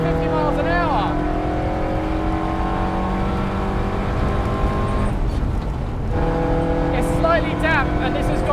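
Fiat X19 rally car engine pulling hard in second gear at speed, a loud, continuous, close droning roar with rising rev sweeps and a brief dip midway, heard from inside the car.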